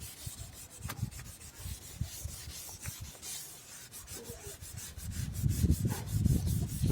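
Wet sanding a car headlight with sandpaper: steady rubbing and scraping strokes, close and moderately loud, growing denser and heavier toward the end, with no talk.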